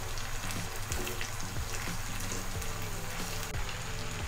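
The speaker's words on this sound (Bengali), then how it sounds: "এখন আমরা পেঁয়াজ এবং চিংড়ি মাছগুলো দিয়ে একটু লাল লাল করে ভেজে নিব।" Onions and prawns fry in a hot pan for a Bangladeshi prawn malaikari, giving a steady, dense sizzle and crackle close up that runs unbroken, with no talking.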